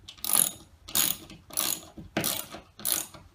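Hand ratchet clicking in five quick bursts as a second bolt is tightened, close and crisp with short pauses between strokes, no talk.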